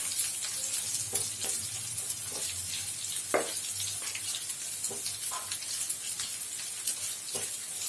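Long-sliced onions go into hot oil in a pan for tomato rice and fry with a steady close sizzle, broken by scattered crackles and pops, with no one speaking.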